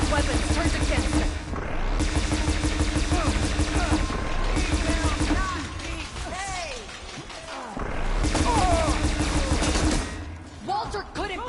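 Enemy gunfire in Horizon Forbidden West's Burning Shores, dense bursts of shots and crashing impacts running through the fight, loud and close, dropping briefly midway before surging again.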